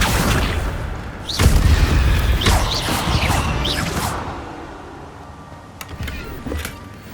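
The Incendio fire spell is cast in Hogwarts Legacy, a game played on PS5, heard as loud whooshing magical bursts and booming impacts, a few sharp hits that fade into quieter crackles and effects.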